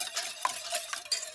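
Ingredients for a milk bread dough, including vanilla, get mixed in a bowl with a few faint, quick scraping strokes, close up and quiet, with no talking.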